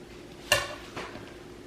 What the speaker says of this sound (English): I just loosened the bottom with the spatula, all right, to make it release from the bottom of the springform pan